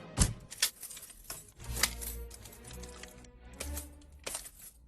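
Several bursts of metallic key jangling in a car ignition, sharp and close, separated by brief quieter gaps with a low rumble underneath.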